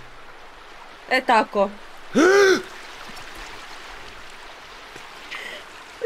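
A shallow stream flows in the game Sons of the Forest as a steady, faint watery hiss, with a man's short spoken words and a throat-clearing sound breaking over it.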